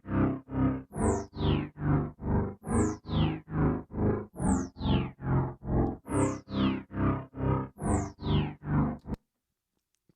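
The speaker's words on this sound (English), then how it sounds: "It's really just playing the noise oscillator" A synthesizer noise oscillator pulsed by an LFO through effects, a dark, heavy rhythmic throb repeating roughly twice per second with recurring swooping high sweeps, loud and alone before cutting to silence.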